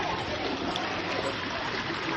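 A mountain stream pours steadily down at a holy bathing spot in Ganjam, Odisha, a continuous broadband rush of flowing water with no breaks, moderately loud and close.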